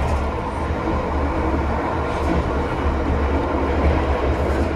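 Taksaka passenger train speeding through Rewulu station just after leaving Yogyakarta, heard from inside as a loud, steady rumble of wheels and carriage with no talk.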